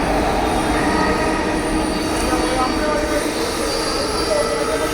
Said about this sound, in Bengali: এই যে মেট্রো রেল চলে গেল।